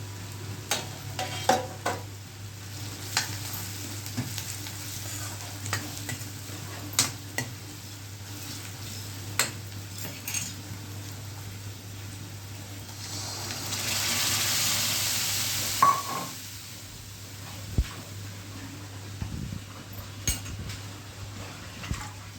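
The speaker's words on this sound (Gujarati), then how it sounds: "દાળ ફ્રાયનો વઘાર છે." Spices sizzling in hot oil as a tempering for dal fry, a low continuous sizzle punctuated by repeated sharp clinks and scrapes of a spoon against the pot, with a louder hissing burst midway.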